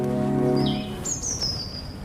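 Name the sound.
garden birds calling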